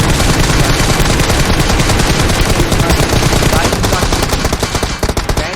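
Rapid automatic gunfire rattles continuously from PUBG Mobile, loud and dense, with bursts of shots tapering into scattered pops near the end.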